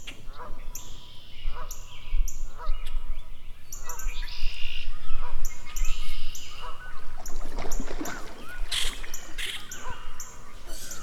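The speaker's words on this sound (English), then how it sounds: "it's also about birds, another theme that came up this morning. And it's about these wood ducks." Outdoor birdsong with repeated short chirps and calls from wood ducks in a pond, over soft water and rustling, including a few louder splashes or flaps near the end.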